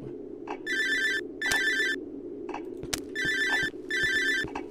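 An electronic phone rings in the horror video game Cry of Fear, a bright trilling ringtone repeating in four bursts with short gaps, over a low steady background hum.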